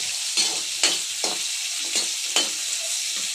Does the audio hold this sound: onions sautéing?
yes